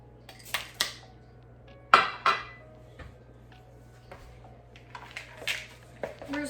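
Chocolate chips tipped into cookie dough in a mixing bowl, heard as a few scattered clinks and light knocks against the bowl, with pauses between short clusters of taps.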